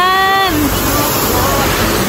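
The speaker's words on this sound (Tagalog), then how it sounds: "We're here at Tangadan Falls." Tangadan Falls in La Union roars as a steady, loud rush of falling water, filling the whole moment, with a voice briefly heard over it at the start.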